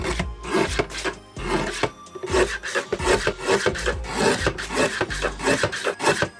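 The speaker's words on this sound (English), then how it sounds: "Now to turn them into Polaroids, I got my cutter. Cut them roughly." Paper cutter trimming printed glossy photos down to mini Polaroid size, a close series of quick rasping, scraping strokes in an uneven rhythm with short pauses between cuts, no voices.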